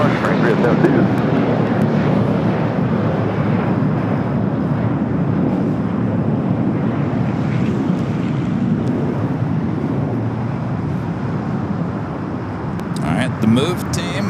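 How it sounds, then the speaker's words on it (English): American Airlines jet taking off from LAX toward JFK, a loud, sustained roaring engine rush with wind buffeting the microphone throughout, faint voices and small clicks near the end. "That American flight taking off heading to JFK"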